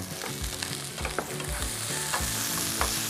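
Onions stir-frying in oil or butter in a pan, a steady soft sizzle with repeated scraping strokes of a utensil at a slow, irregular rhythm, close and moderately quiet, no voices.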